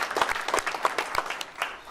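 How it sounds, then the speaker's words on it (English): Applause from an audience at a community event in Palmer Park, brief bursts of clapping at moderate distance, somewhat sparse and uneven over two seconds. "So give our young people a round of applause."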